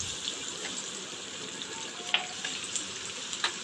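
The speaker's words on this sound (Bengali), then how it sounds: "পেঁয়াজটাকে তেলের সাথে এবার ভেজে নেব।" A handful of chopped onions fries in oil already used to fry fish, giving a steady, close hiss with occasional small pops and clicks, no voices present.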